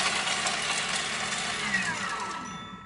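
A Thermomix blending dried herbs at speed 7 makes a steady, loud motor whir with a gritty churning edge that eases off slightly toward the end, heard alone.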